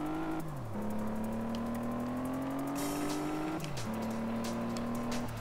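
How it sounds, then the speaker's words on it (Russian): A car engine in a PS2 racing video game drones steadily and climbs in pitch through the gears, with two clear downshift drops and faint tire noise, constant and unbroken with no speech. "Вы слышите, да, звук мотора другой."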